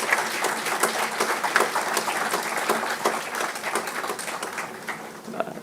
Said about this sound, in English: Can you have a big applause for your grand achievement today?